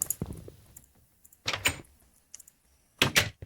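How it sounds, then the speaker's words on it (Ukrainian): A door opens in a video game with several short clunking and sliding bursts separated by silence, fairly close and moderately loud. "Відкриваємо двері."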